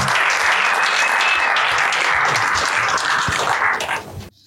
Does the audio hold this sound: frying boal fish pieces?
no